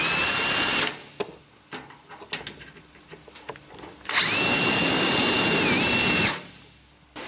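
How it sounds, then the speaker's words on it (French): A power drill countersinks screw holes in a door panel of a Citroën Traction 11B, giving two loud, sustained high-pitched whining bursts separated by a few seconds of quieter clatter and handling knocks. "je commence par légèrement fraiser l'emplacement des trous"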